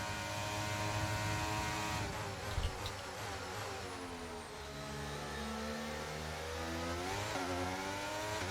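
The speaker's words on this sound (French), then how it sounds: "le moteur il hurle" A Formula 1 car engine in the F1 23 racing game whines at a high, steady pitch, its tone sliding down and rising again with gear changes, continuous and fairly quiet.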